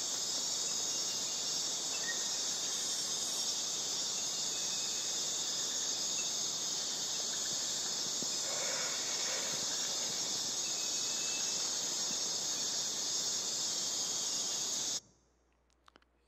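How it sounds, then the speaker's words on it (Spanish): Dense, steady chorus of crickets and insects fills a jungle soundscape in Colombia, a continuous high shimmering drone that stays loud throughout before cutting off abruptly near the end. "Este es el sonido de la selva."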